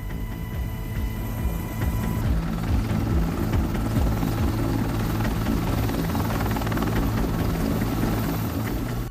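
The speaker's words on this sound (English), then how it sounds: "Helicopters going out, helicopters coming back, helicopters waiting on ships." Military helicopters, AH-64 Apache type, flying near ships over the Strait of Hormuz, a steady loud rotor drone and throbbing blade chop filling the whole stretch without pause.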